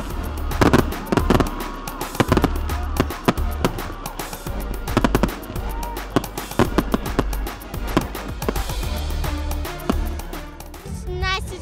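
Fireworks burst over a seafront waterfront at a celebration, a rapid irregular barrage of loud bangs and crackles, some sharp and near, with dense overlapping explosions and a fizzing crackle near the end.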